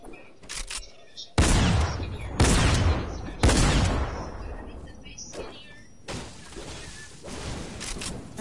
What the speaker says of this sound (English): Okay, shotgun action.